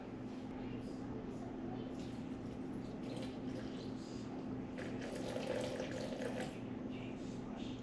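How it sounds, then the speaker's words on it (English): 350 grams of room temperature water runs steadily into a bowl for sourdough, several seconds of soft continuous splashing pour close by. "add 350 grams of room temperature water and then mix it up"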